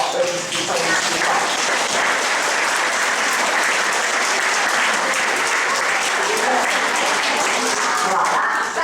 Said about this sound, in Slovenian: In prav bi bilo, da bi zato glasno zaploskali vsak za svojo lepo sliko.